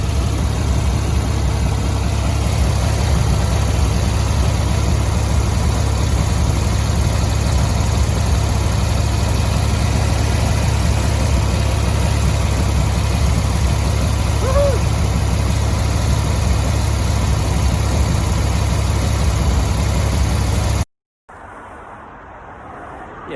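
A VW Beetle engine fitted with a new carburetor idles steadily and close by, a constant low rumble that runs unbroken before cutting off abruptly near the end.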